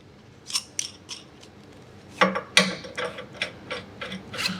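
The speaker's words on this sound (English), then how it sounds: "Thread it to where it just protrudes through the back of the threads on the faceplate." Metallic clicking and scraping as a fastener is threaded into a closet carrier faceplate, a series of separate ticks and short ratchety rasps at close range, quiet with no talk.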